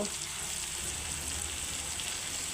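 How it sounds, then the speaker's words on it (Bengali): Spices fry in a pan with papaya and potato, a constant close hiss of sizzling oil filling the short stretch without pauses or voices. "এখন আমি কষতে থাকবো একটু একটু নাড়াচাড়া করে নেবো"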